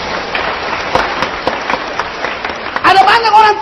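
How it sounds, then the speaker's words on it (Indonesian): Congregation applause at a church service, a steady rustling wash of clapping from many hands that swells near the end, with a voice speaking over it. "Berikan tepuk tangan."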